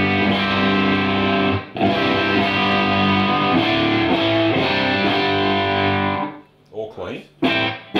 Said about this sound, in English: try it in the 15, and we'll give it a little bit of output distortion